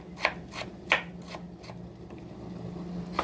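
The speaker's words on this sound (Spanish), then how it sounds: "También se pica bien pequeñito" A knife finely chops tomato on a board for fish sancocho, giving about half a dozen sharp, close taps at an uneven pace over a low, steady kitchen hum.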